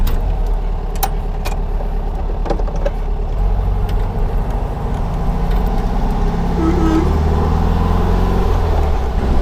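A 1961 VW ragtop Beetle on the move gives a steady, loud engine drone that rises in pitch toward the end, with no talking.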